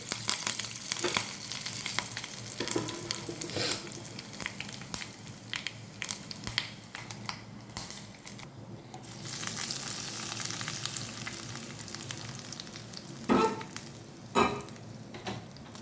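Broken byadgi chillies and curry leaves fry in hot tempering oil with cumin and mustard seeds, giving a soft, close crackling sizzle with scattered pops and stirring scrapes throughout.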